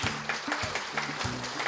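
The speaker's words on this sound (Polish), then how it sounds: "Ogromne brawa." Audience at a Christmas concert in a municipal culture centre applauds, a dense continuous patter of clapping with a few sharper individual claps and faint tonal sound underneath.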